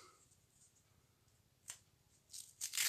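Clear tape is peeled and torn from a roll near the end, giving a short crisp rip and crackle after a faint tick, otherwise near silence.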